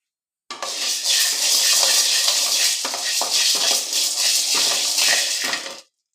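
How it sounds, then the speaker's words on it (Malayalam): White beans, about two handfuls, tossed and roasted in a hot pan, a dense rattling and scraping of dry beans against metal that starts abruptly, holds steady and cuts off, no speech. "വെള്ളപ്പയർ വറക്കുക. ചട്ടിയൊക്കെ ചൂടായിട്ടുണ്ട്."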